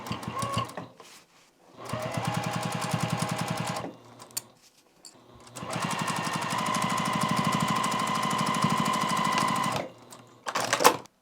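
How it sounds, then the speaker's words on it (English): A sewing machine stitching a pillow seam closed, running in close, rapid bursts of mechanical whirring separated by short pauses, with a long steady run in the middle and no talking. "So I'm going to start sewing."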